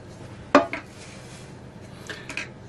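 Metal baking trays are picked up and handled, giving one sharp clattering knock followed by a few lighter clinks and scrapes in a quiet kitchen.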